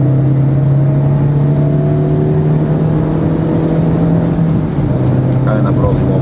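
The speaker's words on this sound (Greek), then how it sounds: "Κάνουμε στην αρχή μια επιτάχυνση να δούμε αν το αυτοκίνητο δουλεύει σωστά." A 2007 Citroen Xsara Picasso 1.6 accelerating, its engine drone loud and steady from inside the car with a gradual pitch rise.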